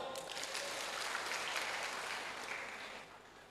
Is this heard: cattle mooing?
no